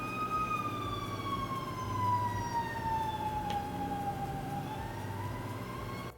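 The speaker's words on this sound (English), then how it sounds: "Do you hear that siren? There's like a fire station kind of close to my house." A fire engine siren from a nearby fire station wails steadily at middle distance, slowly falling and rising in pitch, heard alone over faint background hum.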